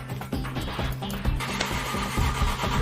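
An oplet minibus engine turns over and catches, a chugging mid-pitched mechanical run with rhythmic knocks and clatter, fairly close and steady with no talk.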